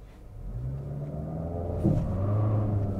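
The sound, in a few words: 2023 Nissan Altima SR Turbo launching, front tires spinning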